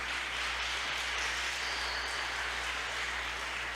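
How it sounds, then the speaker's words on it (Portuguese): Church congregation applauding during a Portuguese-language sermon, a dense, even wash of clapping that stays faint and distant over a low steady hum, with no voices. "Vamos aplaudir ao Senhor por isso, irmãos?"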